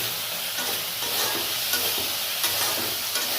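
Raisins stirred through a hot cooking pan for a chana dal dish, a steady close sizzle and hiss with soft scraping strokes running throughout, no voices.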